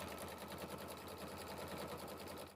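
A sewing machine stitches a placement line on a pieced quilt block, running in a fast, steady mechanical chatter at close range before cutting off at the end.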